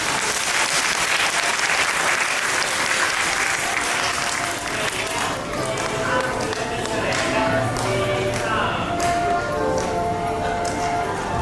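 Applause for kindergarten children at a school graduation and closing ceremony, a steady crowd clapping that carries through the whole stretch, with some voices and shuffling mixed in beneath it.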